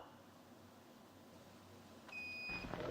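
A single short electronic quiz buzzer beep sounds near the end after a quiet stretch of low room hum at a campus quiz competition in Dubai.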